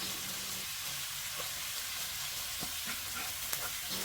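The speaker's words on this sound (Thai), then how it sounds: "ก็เริ่มผัดทุกอย่างให้สุกให้หมดเลยนะครับ" Shrimp, squid and sliced onion stir-fry in a pan with a soft, steady sizzle, broken by a few faint scraping clicks of a utensil, fairly quiet and close.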